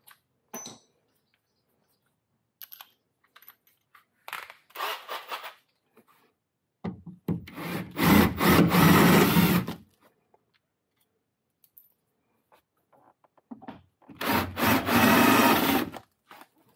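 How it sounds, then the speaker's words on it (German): Bursts of grinding, buzzing as a power drill drills out metal rivets holding a Fiat 500e speaker, two longer loud stretches separated by quieter scraping and handling noises, close by. "Also die Nieten muss man tatsächlich mit der Bohrmaschine entfernen."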